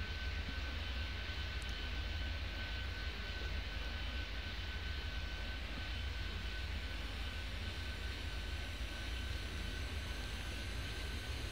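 Jet airliners taking off in the video game Airport Madness 3D: a steady, faint roar of jet engines, unbroken, with a thin high whine running through it.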